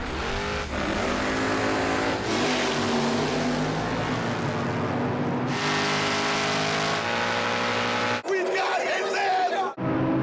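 Drag racing cars, including a 1968 Roadrunner, roar loudly at Maple Grove Raceway with sustained engine drone and gear shifts, while a commentator talks over them and a crowd sounds in the background.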